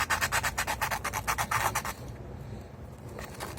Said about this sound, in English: just grab a bit of old sandpaper. I've got an old piece here which is 240 grit.